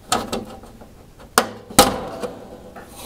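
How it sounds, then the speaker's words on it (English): A screwdriver prying open the plastic casing of an STC-1000 thermostat gives several sharp, loud cracks and snaps, spaced irregularly with quieter scraping between them. "So we're going to get the screwdriver and just pry it open."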